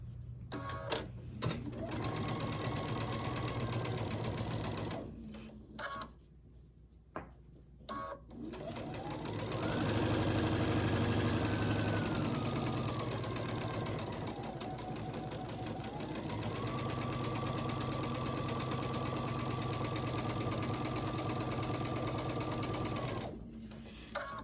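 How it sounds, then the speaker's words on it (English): A sewing machine stitches jelly roll quilt strips down a long side seam, running in steady bursts with short pauses, then a long continuous stretch of even motor whir, close and alone. "Then we'll sew down this long side."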